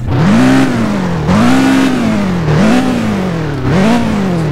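In the Test Drive Unlimited 2 video game, a McLaren F1 engine revs hard four times in steady succession, each loud, close sweep climbing in pitch, then easing before the next.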